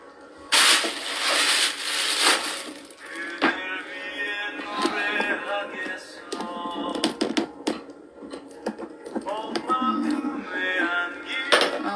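A cooking pot with its lid on, set down after boiling pork for suya: a clanking metal knock and rattle of lid and pan, close and fairly loud, followed by lighter clinks and kitchen handling.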